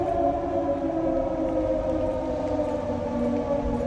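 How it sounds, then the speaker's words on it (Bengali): An all-clear civil defense siren sounds steadily in Bahrain, a sustained, even wail heard from a distance with no rise or fall across the stretch and no talk over it. "এটা ক্লিয়ারেন্স সাইরেন্স বেজে গেল তাই তো?"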